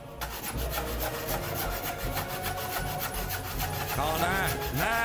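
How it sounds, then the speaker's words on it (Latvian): Hand saw binding and sticking as it cuts through wood during a timed competition, a steady rough rasping that runs continuously over loud crowd noise and music. "Zāģis sprūda iekšā, un ar zāģēšanu gāja diezgan slikti."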